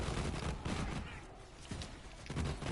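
Gunfire in the video game Borderlands 3: a few quick, punchy shots in short bursts over a dense, noisy game mix, fairly faint overall.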